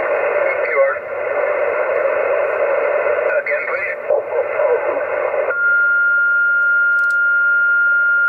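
A steady, loud tuning tone from a ham radio transmitter on a contest frequency cuts in after a stretch of radio chatter and noise, holding as a sustained pure whine to the end.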